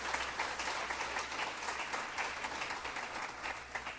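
A congregation at a church service bursts into sustained applause, dense steady clapping from many hands filling the room without pause and no voices standing out.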